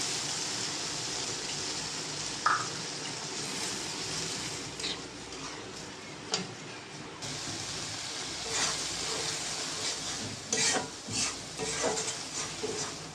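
A steady hiss of dried poa fish cooking in a pan as water is added, with some stirring scrapes and a few louder bursts near the end.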